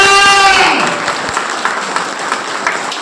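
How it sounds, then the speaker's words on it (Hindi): An audience at a business-plan meeting bursts into loud clapping right after a voice trails off, the dense applause carrying on steadily and close. "एक बार अगेन जोरदार तालियां"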